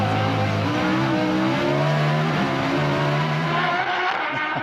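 A Rodin Sintura mid-engine race car accelerates hard out of turn 8, its engine note loud and close, climbing through rising gear pulls with a brief drop before pulling again, with no talk over it.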